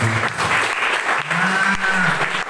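A church congregation at a youth revival service claps in a dense, sustained burst of applause, fairly close and steady, with some faint voices mixed in.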